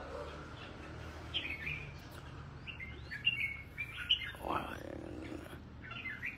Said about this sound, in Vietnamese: Tầm này vẫn còn đang đi sổng chim này anh em ấy.